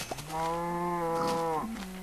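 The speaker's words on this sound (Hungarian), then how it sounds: "Tehén!" A cow moos once in a Minecraft-style block-building video game, a long drawn-out low call lasting over a second, loud and close with nothing else around it.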